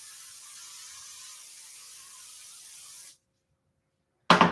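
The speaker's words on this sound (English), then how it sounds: "Now I'm going to spray this pan, but keep it away from the flame." Cooking spray hisses steadily onto a pan for about three seconds, a continuous close, fairly loud aerosol spray, then stops; after a pause a brief louder burst of noise follows.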